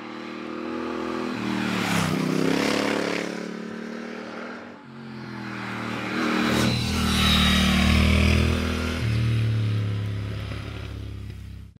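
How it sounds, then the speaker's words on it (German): A Triumph Thruxton RS café racer's twin-cylinder engine pulses steadily while riding, a loud, continuous throbbing drone that rises and falls with throttle changes and wind noise over nearly twelve seconds. "da spürt man eben das Pulsieren des Motors"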